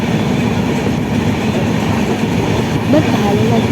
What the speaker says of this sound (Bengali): ভালো লাগছিলো যে অনেক বছর পর উঠেছি ট্রেনে